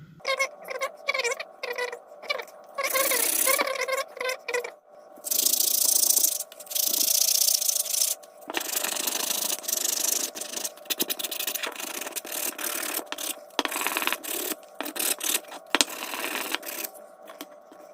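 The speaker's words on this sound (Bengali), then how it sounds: "পালিশ পেপার দিয়ে এটাকে একটু ঘষা দেবো" Sandpaper scrubs back and forth across a piece of slightly damp wood in quick, raspy strokes that keep a loose rhythm, close and fairly loud, with brief shifts in pressure and no talking.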